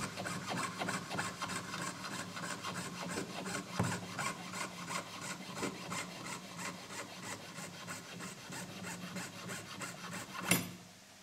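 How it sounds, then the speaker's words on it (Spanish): Steady back-and-forth rasping of a hacksaw cutting through mammoth ivory on a ring, continuous and close, ending with a sharp knock near the end. "cortamos el exceso de marfil con la segueta"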